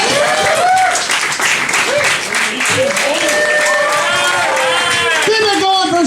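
Comedy club audience at a stand-up night at Cafe Diem claps and cheers loudly for a comedian, with whoops and shouts rising over sustained dense applause throughout.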